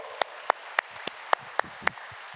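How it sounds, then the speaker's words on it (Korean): A few people in a Korean church congregation clap in welcome, roughly eight sharp, separate claps at a quick, slightly uneven pace, soft and somewhat distant against a quiet room. "여러분께 박수로 환영하시죠"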